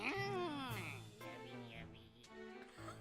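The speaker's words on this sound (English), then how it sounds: "Just cat noises." A cartoonish cat meowing from Twisted Wonderland, a short wavering meow followed by a couple of smaller mews, close and clear.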